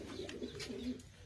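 Pigeons coo in a loft housing large birds and their young, a low soft murmur of overlapping calls running steadily and close throughout.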